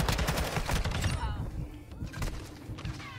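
Rapid bursts of gunfire from the Modern Warfare 2 video game, loud and close, with shots stacking into a fusillade early on and then thinning to scattered reports, with a player talking over part of it.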